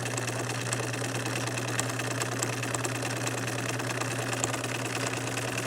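A sewing machine runs steadily at close range, sewing a very short, wide zigzag stitch at stitch length 1/2. The motor keeps up an even, continuous whir with a fast needle rhythm from start to finish, with no voices.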